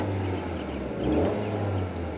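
A 2022 Honda Accord Sport with its 1.5L engine idles in a steady, low, even hum with a slight swell midway, alone and without talk.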